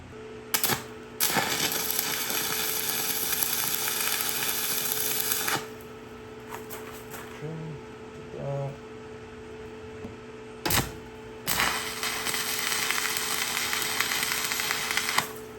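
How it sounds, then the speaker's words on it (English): A handheld grinder works on metal before welding. It makes several long, loud, steady whining passes separated by short stops, with small clicks and handling noises in the gaps. "So let me get this all ground down real quick. Just a quick little grinding"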